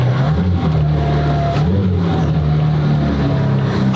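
A McLaren Senna GTR hypercar rumbles loud and close while driving in city traffic, its deep engine note steady with slight pitch shifts and constant road and wind roar.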